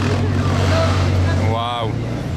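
A convoy of Bugatti Chiron supercars rolls past in the streets of Monaco, a loud low engine rumble holding throughout while a voice briefly calls out over it.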